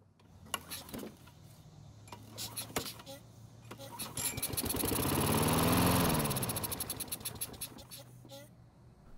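Troy-Bilt lawn mower engine cranked with clicks and pulls, then catching and running in a rising, steady roar that peaks and eases off, with ticking and rattling around it.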